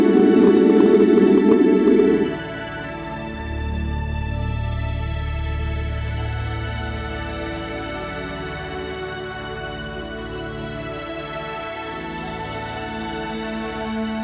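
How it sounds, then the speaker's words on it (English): A blue star's light spectrum rendered as sound: a steady, dense electronic drone with layered tones, opening with a brighter band that drops away after about two seconds, then a sustained low hum continuing alone without speech. "If we convert the frequencies of light to frequencies of sound, we can listen to the spectrum."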